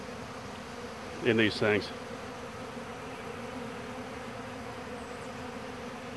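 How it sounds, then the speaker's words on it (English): Honey bees buzzing around an open feeder, a steady dense hum from many insects filling the whole clip, with a brief spoken phrase near the start over it. "But just look at the number of bees"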